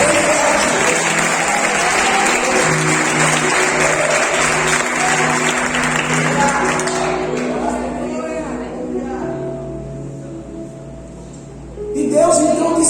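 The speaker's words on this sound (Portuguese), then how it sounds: "E todos nós que cremos, damos uma salva de palmas ao Senhor Jesus" A church congregation claps in unison, the applause broad and loud at first with music tones underneath, then thinning and fading before a brief swell near the end.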